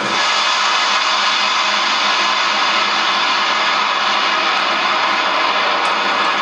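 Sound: airplane flying over Maldives airport

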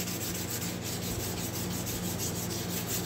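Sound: sanding with a very hard sanding block

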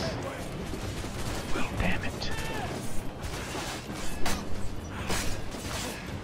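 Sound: gunfire in the video game Assassin's Creed IV Black Flag

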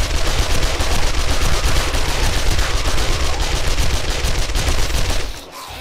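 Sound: SMG gunfire in video game 7 Days to Die

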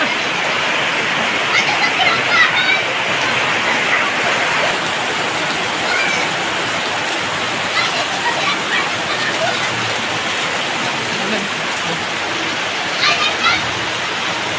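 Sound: heavy rain

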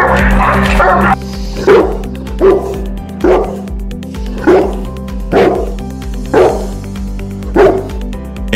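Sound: Presa Canario dog barking

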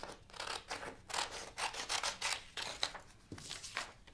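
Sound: cutting with scissors

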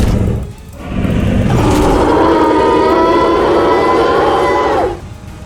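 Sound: police car siren in Roblox video game

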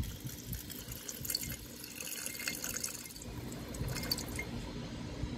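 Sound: gold foils submerged in hydrochloric acid, liquid pouring

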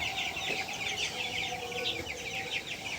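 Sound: chickens clucking on a poultry farm

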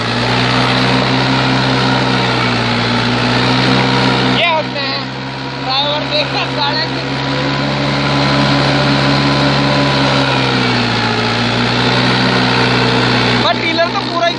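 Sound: Mahindra tractor engine pulling a trailer

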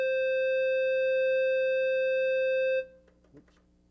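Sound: synthesizer keyboard playing a clarinet sound

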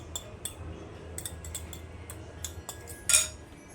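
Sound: whisking eggs with a spoon or fork

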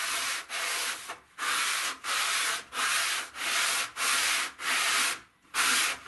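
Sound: belt sander grinding spring steel cutlass blade

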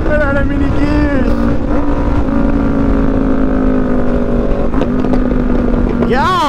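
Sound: loud Yamaha R1 motorcycle riding

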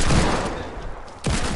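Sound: hand cannon gunfire in a video game

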